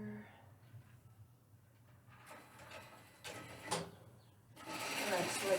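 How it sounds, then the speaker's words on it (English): Sewing machine stitching fabric for scrunchies at a regular stitch, a faint quiet whir in short runs mixed with soft handling clicks and rustles. "So here I go over to the sewing machine, 1/4 inch."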